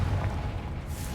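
A Confringo spell goes off in the video game Hogwarts Legacy, a dense low rumbling boom that holds steady for about a second without a clear sharp attack.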